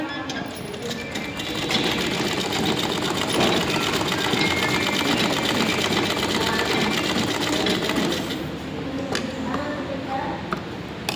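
Sewing machine stitching a blouse, a close, loud, continuous rapid whirring and clatter of the needle running for most of the time before easing off.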